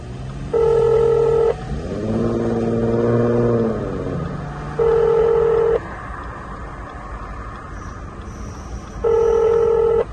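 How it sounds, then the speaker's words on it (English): Emergency-call ringback tones from a 2017 Subaru Impreza's Starlink system sound in three loud, evenly spaced bursts, with a lower voice-prompt tone between the first two over a steady cabin hum. "Call connecting to Subaru Starlink emergency services."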